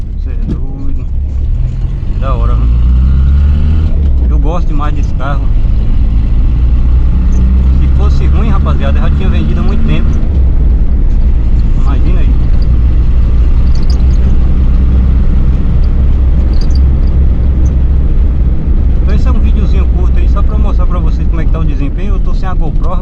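A Volkswagen Gol (square-body model) with a CHT 1.6 kit engine running on E32 gasoline drones steadily at low pitch while driving, its engine noise continuous beneath someone talking throughout.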